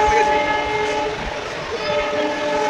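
A train arriving at a station on the way to Digha, heard as a loud, steady rumble with sustained horn-like tones over it and some voices in the background.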